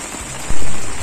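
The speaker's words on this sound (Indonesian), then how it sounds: "tiba-tiba turun hujan yang cukup lebat" Heavy rain falling on a rocky mountain trail on Mount Sumbing, a loud, dense, steady hiss that surges slightly halfway through, close and continuous with no voices.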